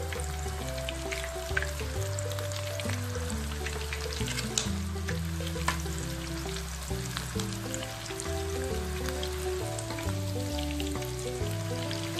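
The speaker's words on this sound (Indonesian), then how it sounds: "minyak pun sudah panas, jadi boleh start goreng ayam ni" Chicken sizzles and crackles in hot oil while deep-frying to golden, a steady dense frying hiss with scattered pops throughout, and no one speaking.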